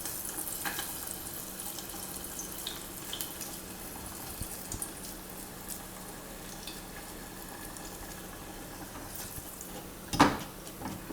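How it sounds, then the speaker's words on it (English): Vadas frying in hot oil as part of a South Indian thali meal, a steady soft sizzling hiss running throughout, with a brief louder clatter near the end. "The vadas fried very well."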